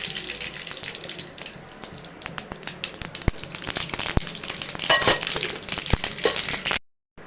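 Mustard seeds crackle and splutter in hot oil in a pan for an ivy gourd stir-fry, a dense continuous sizzle with sharp pops scattered throughout, close up and steady, ending abruptly.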